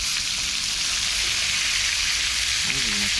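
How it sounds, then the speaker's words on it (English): Steady, loud crackling sizzle of freshly caught morwong fish frying in a pan fills the clip, with a brief voice-like tone near the end. "That's the sizzle we need."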